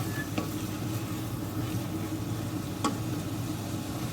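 Leeks being stirred in butter in a pan, with a steady sizzle and soft scraping throughout, close and continuous, a couple of brief clicks standing out.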